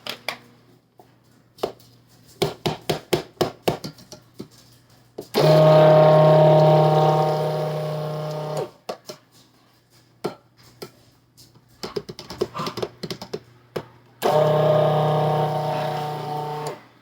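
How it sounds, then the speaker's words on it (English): A stick blender whirs through cold-process sandalwood soap batter in two loud motorized bursts, each lasting a few seconds, separated by sharp clicks and taps of the blender against the container. "Let me just go in with the blender once."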